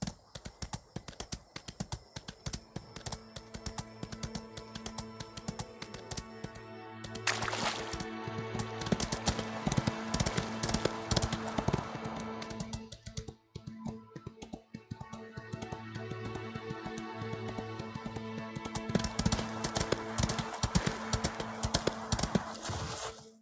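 Horse hooves clip-clop steadily and close in the horse-riding video game Ostwind, a continuous rhythmic trot with game music underneath, running throughout with a short dip midway.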